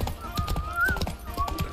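Horse hooves clip-clopping at a gallop with a whinny, ridden through a forest in The Witcher 3, a steady close rhythm of hoofbeats over game ambience.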